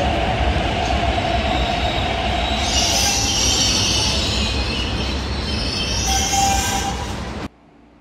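An East Rail line R-Train in the Roblox video game pulls into the platform: a loud, continuous rolling rumble with high wheel squeals rising twice, then cut off abruptly near the end.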